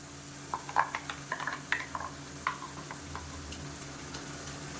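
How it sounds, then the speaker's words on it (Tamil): Coconut paste and spices sauté in oil over a medium flame for an egg gravy, a low steady sizzle with a brief cluster of light spatula taps and scrapes near the start. "இப்போ நல்லா வதக்கி விட்டுக்கலாம் எண்ணெயில் மீடியமான ஃப்ளேமில் வதங்கட்டும்"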